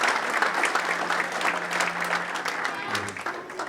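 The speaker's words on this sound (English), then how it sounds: "nice round of applause for all the former ones" Crowd applause at a high school sports hall of fame induction ceremony, sustained even clapping filling the hall, with a low voice faintly beginning to speak beneath it toward the end.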